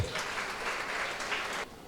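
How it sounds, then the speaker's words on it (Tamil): An audience at a charity Diwali celebration applauds steadily for nearly two seconds, a dense wash of clapping that tapers off at the end. "ஒரு கைத்தட்டலாமா அவருக்கு"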